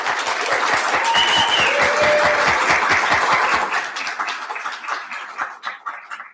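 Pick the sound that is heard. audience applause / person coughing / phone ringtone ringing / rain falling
audience applause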